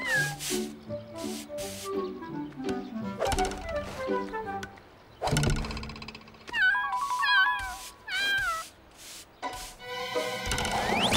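Repeated cat meows and drawn-out cries over about ten seconds, loud and close, with short pauses and some clattering noise between them, the cat playing with a suction cup.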